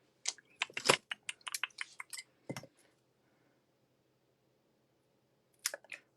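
Scissors snip through paper during a stamping card craft, a quick run of sharp close cuts followed by a pause and a few more snips at the end.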